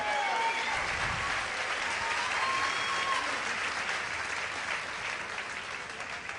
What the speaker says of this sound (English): let's give these two warriors a big round of applause